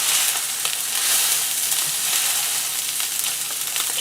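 Wagyu steak frying in a pan, giving a steady, dense sizzle with crackling fat that holds at an even level for about four seconds, close and with no talk over it.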